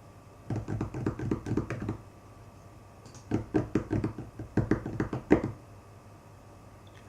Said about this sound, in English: type in the title of that activity, date,